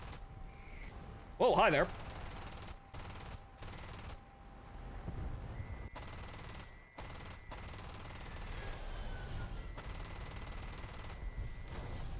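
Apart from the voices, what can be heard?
aircraft guns firing in War Thunder video game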